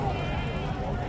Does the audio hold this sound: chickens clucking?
no